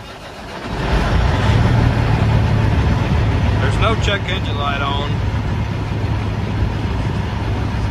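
Caterpillar C15 diesel in a Peterbilt truck, in neutral and reported to have low oil pressure, cranks briefly, then catches and settles into a steady low idle rumble while someone speaks over it.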